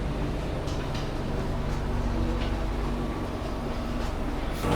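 Steady low rumble of a Jakarta–Jogja executive-class passenger train in motion, heard from inside an old-style carriage, continuous and even with faint rattles, no voices.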